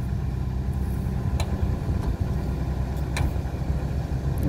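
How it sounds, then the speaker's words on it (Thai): Six-wheel trucks rumble into an excavation site where SANY and CAT excavators work, a steady loud engine drone with occasional brief clanks, no talk. "6ล้อก็ทยอยมาเรื่อยๆนะครับ"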